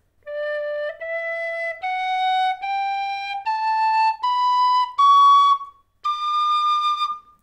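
A tin whistle plays a rising scale of eight separate notes, each held about a second with short breaks, clear and close.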